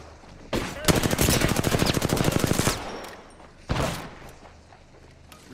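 Rapid automatic gunfire from an Apex Legends match rattles out in a sustained burst of about two seconds, followed after a pause by a single loud shot, with faint game ambience between.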